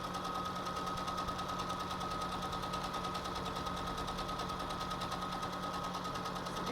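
A sewing machine straight-stitches cloth for a three-layer face mask, its rapid, even whirring running continuously with no talk.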